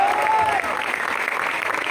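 A church congregation applauds in a dense, steady wash of clapping, loud and close, with a brief whistle-like tone rising over it near the start.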